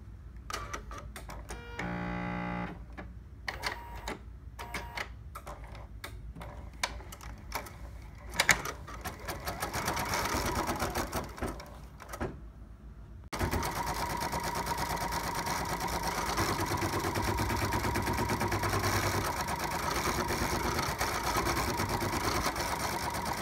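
An embroidery machine stitches an applique letter, starting with irregular short bursts of rapid needle clatter, then running into a steady, continuous mechanical buzzing hum, close and moderately quiet.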